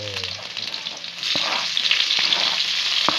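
Garlic, onion and tomato sautéing in a pan for rabbit afritada, a steady close sizzle and crackle of frying with occasional stirring scrapes.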